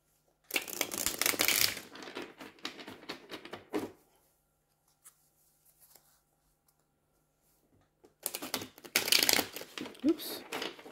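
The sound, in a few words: shuffling tarot cards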